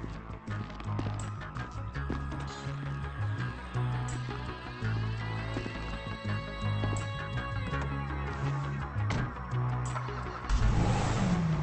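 A car engine in GTA V on an Xbox One X drones steadily for several seconds, rising and falling in pitch as it revs, with a louder surge near the end and no talking.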